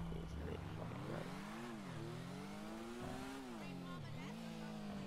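Revving engine of an alien-style bike in a video game, rising and falling in pitch as it accelerates and eases off, steady and fairly close.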